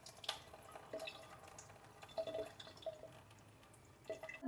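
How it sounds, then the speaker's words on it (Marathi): Water drains from washed sago pearls as faint, sparse drips and small trickles in a quiet kitchen. "मी आता त्याचं सगळं पाणी ड्रेन आउट करून टाकणार आहे."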